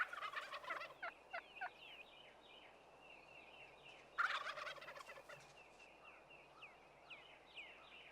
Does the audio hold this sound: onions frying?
no